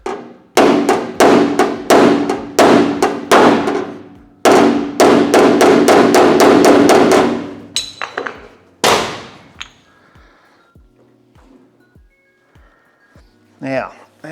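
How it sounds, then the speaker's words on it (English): Rapid, loud hammer blows ring on a bare metal body panel of a Ford XC Falcon panel van in quick bursts, then a few isolated strikes with quieter pauses between. "Might go just with the hammer because it doesn't seem to want to move."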